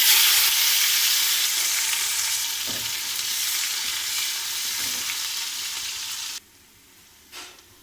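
Green chillies fry in hot oil with a loud, steady sizzle that slowly fades, a few soft stirring knocks in between, then the sizzle cuts out abruptly near the end.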